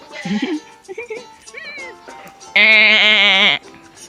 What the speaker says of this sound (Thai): เจ้าแพะน้อย